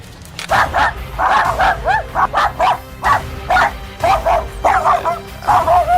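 Dogs bark and yip in quick repeated bursts, loud and close, with a whimpering edge to some calls.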